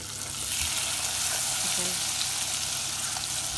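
Butter melts in a pan over turned-down heat, giving a soft, steady sizzle and frying hiss that runs continuously and fairly quietly throughout.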